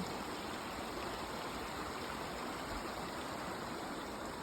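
A clear forest stream flows nearby, giving a steady, even rush of water with a soft gurgling texture, unbroken and without voices.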